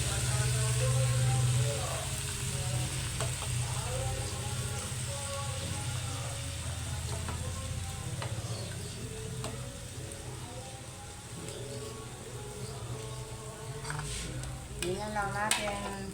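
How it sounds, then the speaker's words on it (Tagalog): Pechay greens fry and are stirred in a pan with scrambled eggs, a steady close sizzle broken by scraping utensil strokes that continue throughout. "Ngayon, ilalagay na natin yung ating gulay, mga lalab. So, ating pechay."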